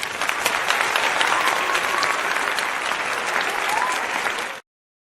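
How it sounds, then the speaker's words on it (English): A full round of applause from an audience at the opening of a live show, dense steady clapping sustained for over four seconds, then cut off abruptly. "we'll go ahead and start off with a round of applause."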